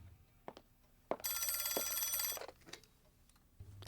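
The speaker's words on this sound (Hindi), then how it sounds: "फोन बज रहा है" A telephone bell rings once in a single loud, buzzing burst of about a second, close by, set between quiet room noises and a few soft knocks.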